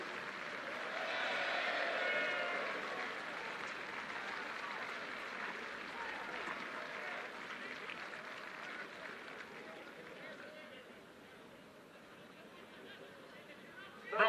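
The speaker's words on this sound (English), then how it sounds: "Let's have a round of applause for our officials." Stadium crowd at the 2014 British and Irish Cup rugby final applauds the match officials, a soft, distant spread of clapping and murmuring that swells early and then slowly fades.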